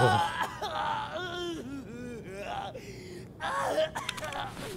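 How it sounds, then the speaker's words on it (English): Pained death cries and groans of characters in the video game Escape From Tarkov, a run of strained moans, gasps and wails rising and falling over about five seconds, fairly loud and close. "those death cries are freaking brutal"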